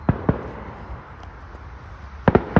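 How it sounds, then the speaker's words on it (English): Fireworks burst on bonfire night as sharp cracks and bangs, two early pops and then a rapid cluster of three near the end, moderately distant with quiet outdoor ambience in between. "If you can see those flashes of lights, those are fireworks."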